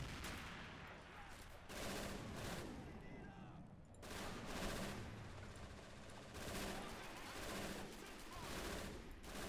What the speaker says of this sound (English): Artillery is going ham.